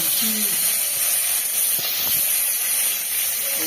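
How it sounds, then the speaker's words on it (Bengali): Prawns frying in a pan in a village kitchen, a steady loud hiss and sizzle running throughout with faint clatter. "এবার আমি চিংড়ি মাছটা ভাইজে নেব।"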